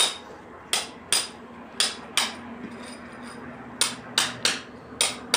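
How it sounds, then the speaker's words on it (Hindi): Hammer blows drive a chisel to cut a groove for a metal box for foot lights, ringing out as sharp, close strikes in irregular bursts with pauses between. "छेनी थोड़ी से अपने को साइज के अनुसार वहाँ पर झीरी कटिंग कर लेते हैं।"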